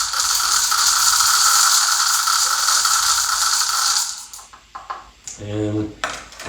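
Small BBs pour through a funnel into a golf club shaft for a weighted swing trainer, a dense steady rattling hiss that thins and stops near the end, followed by a few clinks and handling sounds.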